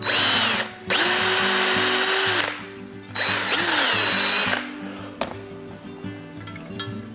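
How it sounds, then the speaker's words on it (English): Power drill boring into a broken sculpture, two loud sustained whining bursts with steady pitch, then a shorter third run and scattered clicks as the bit is worked deeper. "So let me step around here and get this spot drilled out."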